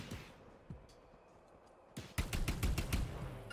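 A movable turret in The Anacrusis firing a rapid burst of loud, sharp repeated shots after a short lull of quieter game ambience.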